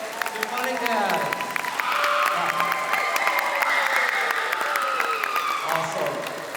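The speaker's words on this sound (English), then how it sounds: "How about another round of applause to the Kahuku High School and Intermediate" Sustained applause and cheering from a crowd at Windward Mall for the Kahuku High School and Intermediate band, broad steady clapping holding at full level for several seconds before easing slightly at the end.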